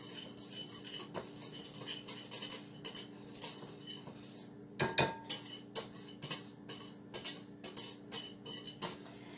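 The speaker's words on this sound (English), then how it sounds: "just stirring that up in with the seasonings" Metal utensil scraping and clinking against a bowl while macaroni salad is stirred with seasonings, a quick irregular series of sharp clinks and scrapes, close and moderately loud, with no talking.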